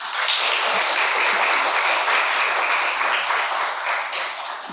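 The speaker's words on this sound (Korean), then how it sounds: "우리 박수로 한번 환영하겠습니다" Steady, dense applause from a lecture audience at a Baptist church event welcoming a guest speaker, a physician from Gachon University medical school, sustained and full for the whole stretch and tapering slightly at the end.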